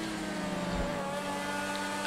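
Car engine in GTA V, a steady loud droning hum with sustained harmonic tones, held at a constant pitch throughout without clear changes in speed.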